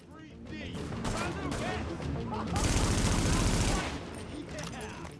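A grenade explodes in The Division's shooter combat, a broad roaring blast lasting over a second amid ongoing rapid gunfire and other loud battle noise.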